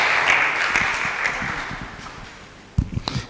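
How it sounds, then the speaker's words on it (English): A burst of applause from an audience fades out, followed by a few sharper claps near the end. "Let's give him a clap"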